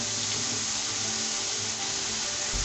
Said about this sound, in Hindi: देखिए कितनी अच्छे तरीके से फ्राई हो रही है।